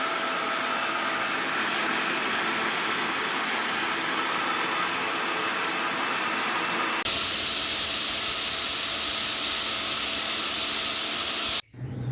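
Steam hisses loudly and steadily from a pressure cooker holding chickpea curry on a home kitchen stove. The hiss grows stronger partway through, then cuts off abruptly near the end.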